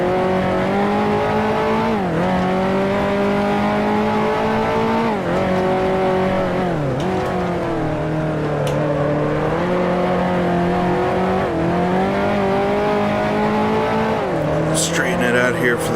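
A 1955 F1 race car engine at the German Grand Prix in Grand Prix Legends drones loudly and continuously, with pitch dips at gear changes and rising revs between them, while someone talks over it.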